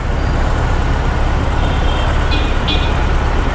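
A 2020 BMW R18 motorcycle on the move, heard as a constant loud, dense roar of engine and rushing wind with no break across the ride.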